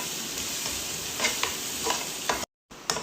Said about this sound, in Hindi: ये देखिए हमारा प्याज जो है माशाल्लाह से हो चुका फ्राई